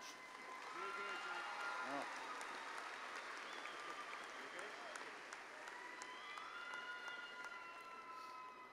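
A large audience at a university spring commencement ceremony claps for graduates, a dense, sustained wash of applause from a big hall that holds steady throughout, heard from a distance with some faint tonal sounds mixed in.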